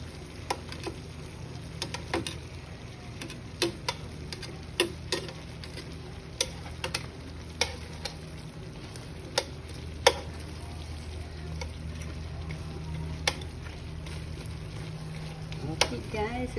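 Chicken in marinara sauce bubbles in a pan under a soft steady sizzle, a utensil scraping and tapping against the pan every second or so, close up while a voice talks intermittently.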